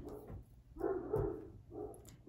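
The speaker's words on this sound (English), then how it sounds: "Now all of them are barking because I think someone's come up the driveway." Great Danes barking at someone coming up the driveway, a few deep muffled woofs from indoors at moderate distance, heard alone without talk.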